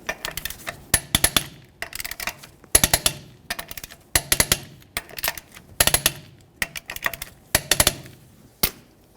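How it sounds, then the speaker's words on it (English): A torque wrench tightens Ford Ranger lug nuts in a crisscross pattern to 100 foot-pounds, giving sharp repeated clicks in quick bursts of two or three with short pauses between, close and crisp. "let's torque these in a crisscross manner."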